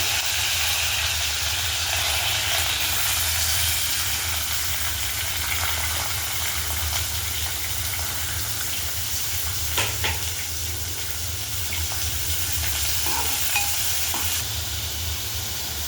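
Onion and green chilli sizzle in hot oil with popped mustard seeds and curry leaves, a steady loud frying hiss with occasional stirring scrapes throughout, no voices.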